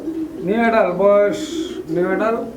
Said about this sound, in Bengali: একজোড়া ক্লাসিক অ্যালমন্ড ম্যাকপাই পোটরা আছে